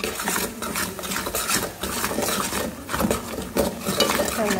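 Gooseberries being mixed with salt for a gooseberry and dates pickle, giving continuous clattering and scraping of a spoon against a bowl or pot, close and fairly loud, with no talking.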